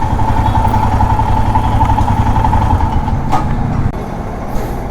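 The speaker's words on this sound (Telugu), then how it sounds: "इंजन से कुछ नॉइस आ रहा है" A Royal Enfield Himalayan motorcycle with about 35,000 km on it, its engine making excessive noise, runs close and loud with a steady throbbing idle that drops slightly in level near the end.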